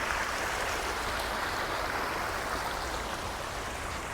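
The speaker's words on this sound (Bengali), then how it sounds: "কৃত্রিম ঝর্ণা এত সুন্দর হতে পারে দেখুন" An artificial waterfall on a man-made hill in Qatar, water falling and splashing in a dense, continuous rush that stays close and steady throughout.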